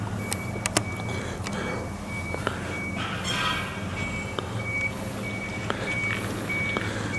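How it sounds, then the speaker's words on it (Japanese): A route bus arrives at a rural train station in Gunma, Japan, its reversing beeps sounding in a regular repeating pattern over a steady engine rumble. "これ路線バスですね、路線バスが到着しましたね。"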